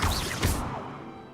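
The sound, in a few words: Accio summoning spell cast in video game Hogwarts Legacy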